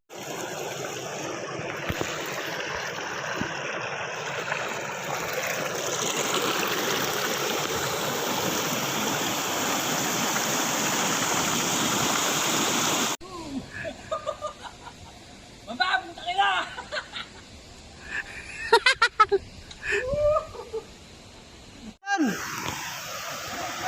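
Pari Falls waterfall rushing as a steady, loud broadband roar for about thirteen seconds, then cutting to quieter scattered sounds and bursts of voices.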